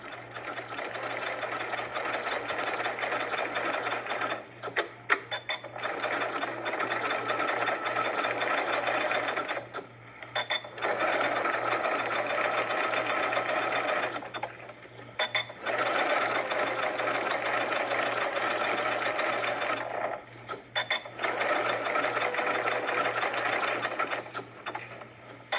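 A sewing machine runs decorative stitching around an appliqué circle, buzzing steadily in four long bursts separated by brief pauses, close and loud with no talking.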